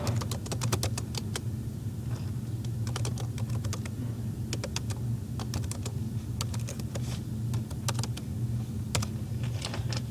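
Fingers type on a computer keyboard, a close burst of quick, irregular key clicks over a steady low room hum, with brief pauses and no voices.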